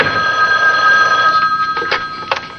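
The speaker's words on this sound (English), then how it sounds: "There's my phone" A telephone rings in a home, a steady electronic trill repeating clearly and fairly loud, with faint background noise and no talk over it.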